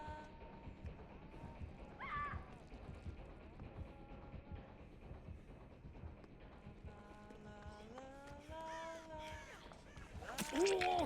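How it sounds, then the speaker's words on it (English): Crows cawing in the Dead by Daylight video game, a few scattered harsh caws over running footsteps and game ambience, with a louder burst of effects near the end. "I hear a lot of crows again."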